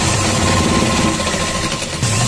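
Sewing machine stitching the side seams of a small frock's lining for a Laddu Gopal doll, a steady continuous mechanical whirr running loud and unbroken throughout with no voices.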